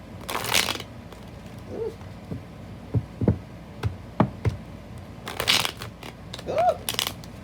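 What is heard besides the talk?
shuffling tarot cards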